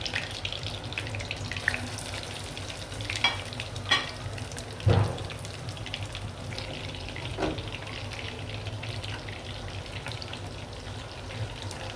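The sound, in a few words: chicken kebab frying in mustard oil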